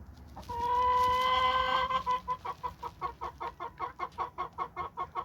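A hen gives a drawn-out, agitated call followed by a quick, regular run of about a dozen sharp clucks, close and clear, with no talking.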